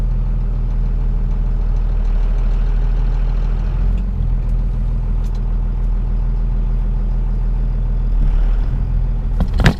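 A Cummins diesel pickup truck with an NV5600 transmission idles nearby, a steady low rumbling drone holding throughout with a slight clunk near the end and no talking.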